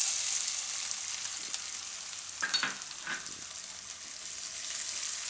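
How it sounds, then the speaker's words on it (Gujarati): Onions frying in oil in a pan over a low gas flame while a Gujarati soya bhurji pulao is being made, giving a steady soft sizzle with a brief stir or clatter partway through. "ડુંગળીને આપણે થોડીક વાર પાકવા દઈશું આમાં તેલમાં."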